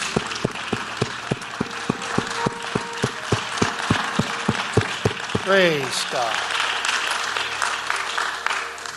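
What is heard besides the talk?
congregation applause, hand clapping in praise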